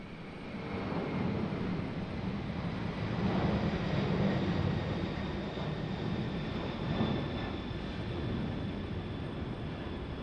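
A FedEx airplane at Raleigh-Durham International Airport gives a steady, distant roar of jet engine noise with a faint whine, swelling gently midway and holding for the whole stretch with no talk.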